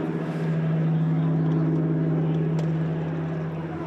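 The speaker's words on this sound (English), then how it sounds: "The Second World War planes all had this wonderful throaty roar in their engines." A Douglas Dakota propeller aircraft of the Battle of Britain Memorial Flight drones overhead with a steady, throaty low engine roar, loud and continuous throughout, with no talk over it.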